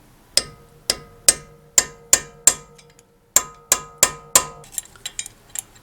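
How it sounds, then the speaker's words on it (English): A hammer drives a drift pin to free the passenger-side CV axle on a 2014 Honda Odyssey: about eleven sharp metallic ringing strikes in a steady rhythm with one brief pause, close and loud, followed by lighter clinks. "now it's a little bit easier to do hammering downward."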